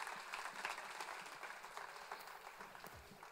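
Audience applause at the CLIC 2017 event, a steady, dense patter of many hands clapping together, fairly soft and heard on its own for a few seconds.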